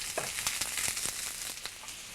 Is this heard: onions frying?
yes